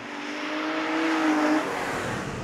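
An Aston Martin DB9 accelerates hard, its engine note climbing steadily in pitch for about a second and a half before easing off, heard from inside or close by as a continuous rising drone.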